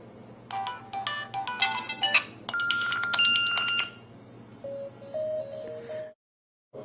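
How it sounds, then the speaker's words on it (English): Several short phone ringtones from a Nokia handset's settings menu, including special AT&T ones, play one after another as distinct electronic melodic tone bursts with brief pauses between them, ending in a soft two-note chime. "You got ringtones. We have some special ones from AT&T."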